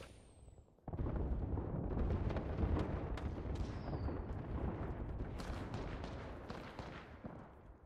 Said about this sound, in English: Dropping artillery on us.